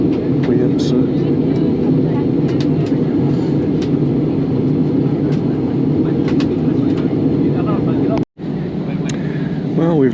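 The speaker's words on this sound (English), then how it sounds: "we've landed safely and just taxiing in now to the terminal" A fixed-wing airliner taxiing after landing at Palma de Mallorca airport, heard from inside the cabin as a loud, continuous engine roar and rumble with a brief dropout near the end.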